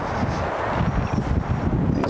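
Strong wind buffeting a microphone outdoors at a campsite, a continuous loud rumbling roar with gusty fluctuations and no speech.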